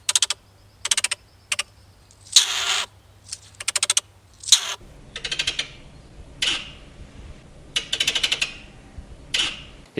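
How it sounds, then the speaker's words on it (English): Stoat making strained, high-pitched calls, each burst preceded by rapid clicking, in short repeated bouts with brief gaps, close and fairly clear over a low steady background. "stoats have a range of strained calls that are preceded by a clicking"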